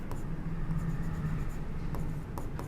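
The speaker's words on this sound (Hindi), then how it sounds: "तो यहां पर लिखते हैं" Pen writing on paper during an accounts class, a soft continuous close scratching with a low hum underneath and a few faint taps.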